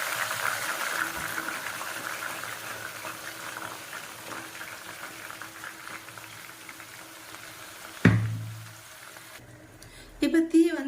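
Ground herbs dropped into hot hair oil on a medium flame, giving a steady bubbling sizzle throughout, then a sudden louder crackling burst as the paste hits the oil, fading to quieter frying.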